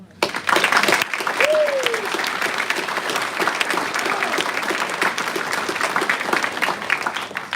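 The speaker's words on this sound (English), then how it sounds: "Let's give them all a round of applause" A room full of people claps steadily and loudly at a Tinker Airman Leadership School class 25-A graduation ceremony. The dense applause holds for about seven seconds, with a brief whistle-like tone early on.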